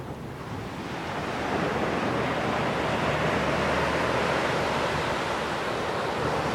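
Ocean surf rolls onto the beach in front of the market at St. Paul, Réunion, a steady broadband wash that swells after the first second and stays loud and continuous, with wind buffeting the microphone and no voices.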